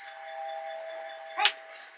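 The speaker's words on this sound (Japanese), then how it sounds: "クイズ締め切りのチャイムが鳴りました" A sustained electronic chime tone marking a radio quiz deadline holds steadily, with a brief sharp ding near the end that fades out.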